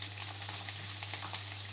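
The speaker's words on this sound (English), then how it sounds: "now once our pot is hot, we are going to put in our onions" Onions hitting a hot cooking pot and frying: a loud, continuous close sizzle with crackling spatter and a steady low hum underneath, brief and without talk.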